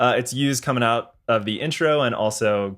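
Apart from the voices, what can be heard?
No everyday noises stand out.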